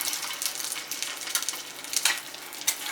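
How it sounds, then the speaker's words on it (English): A tuna patty frying in hot oil in a cast iron skillet, a steady crackling sizzle with sharp popping bursts, close and continuous with no talking. "I'm gonna drop him right in the hot oil and start frying."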